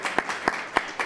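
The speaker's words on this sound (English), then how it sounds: "can we just give a round of applause to our Director of Events, Peggy Zamba" Audience applause at a university lecture event, a brief burst of scattered clapping with distinct sharp claps over a softer wash of hands, fairly quiet.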